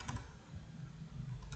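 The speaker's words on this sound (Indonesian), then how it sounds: "lalu kita ketikkan config" Computer keyboard keys tapped in a short irregular burst of close, light clicks while commands are entered on a switch in Packet Tracer.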